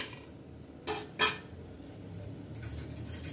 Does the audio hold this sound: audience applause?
no